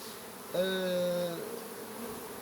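A steady insect buzz, like bees, hums faintly for about a second against quiet background hiss, then fades.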